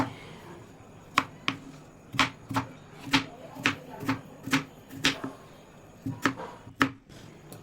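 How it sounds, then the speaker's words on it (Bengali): A knife cuts potatoes into thin long strips on a board, giving a run of sharp, evenly spaced chops close by, with a brief pause before the rhythm picks up again. "এইভাবে আলু ভাজার মতো করে ঝিরিঝিরি করে লম্বা করে কেটে নিচ্ছি"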